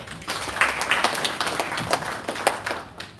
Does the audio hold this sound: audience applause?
yes